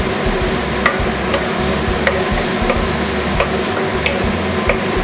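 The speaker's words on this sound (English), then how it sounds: "You want to saute until the garlic is fragrant and the shallot is going to be caramelized." Garlic and shallots sauté in a pan for shrimp scampi, giving a steady close sizzle with soft stirring scrapes and occasional light clicks of a utensil against the pan, with no talking.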